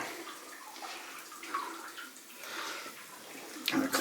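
Water sloshes and splashes continuously as someone wades through murky water in the flooded Thorndyke Mine, with a louder splash near the end.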